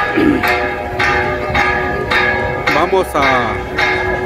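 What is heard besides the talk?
church bell ringing at midday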